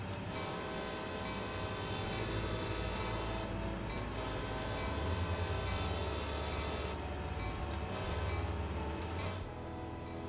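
Diesel locomotive horn sounding in a train simulator climbing the Sand Patch grade: a sustained loud tonal blast over steady rumbling engine and rail noise, continuing for several seconds without talk.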